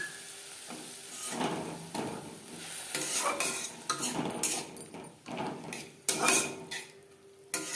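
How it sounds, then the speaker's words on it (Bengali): Vegetables and beaten yogurt are stirred in a pan over a low flame, making repeated scraping and clinking of a spoon against metal in bursts over a soft background sizzle. "সবজির সাথে টক দই বেশ ভালো করে মিক্সড করে দেব"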